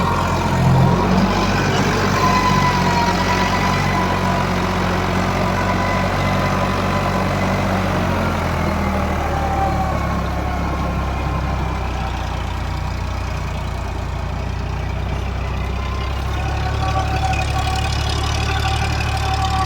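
An Eicher 551 tractor runs a rotavator in a field, its diesel engine droning steadily at a loud, even pitch throughout with a constant low rumble and no pauses.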